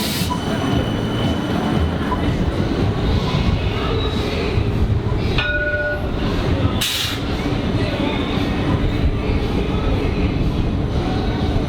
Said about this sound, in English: here comes the tram